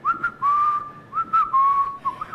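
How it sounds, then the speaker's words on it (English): A person whistles a short melodic tune of several sustained notes with brief breaks, clear and close, alone without talk, as a test of endurance during martial arts training. "give us a whistle"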